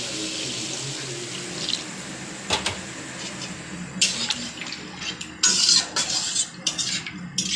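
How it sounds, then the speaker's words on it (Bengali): Spice-paste water poured into a pan of frying spices, a steady watery rush and splashing that swells into louder bursts of sizzle and clatter toward the end, close and fairly loud. "মশলা কষানো হয়ে গেছে, আমি এবার জল দেব। মশলা বাটা জলটা দিলাম।"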